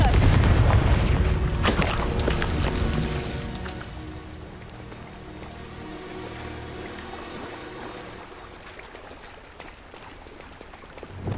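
Confringo spell explosion in the video game Hogwarts Legacy: a loud, deep blast at the start with a sharp crack soon after, then a long rumbling decay fading under faint game ambience.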